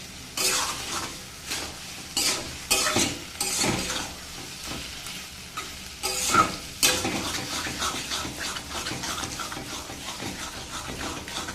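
Taro greens stirred and fried in a pan, with a steady sizzle broken by repeated scraping and clattering strokes of a utensil against the pan, loud and close throughout.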